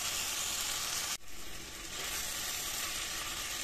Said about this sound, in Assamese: পুখুৰীৰ মাছ এনেদৰে তলপৰ কৰি লৰাই দিছিলোঁ